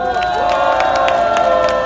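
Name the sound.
audience applause at rally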